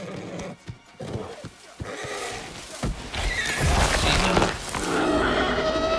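A horse in a fantasy adventure film neighs loudly over clip-clopping hooves and busy action noise, up close and rising in intensity.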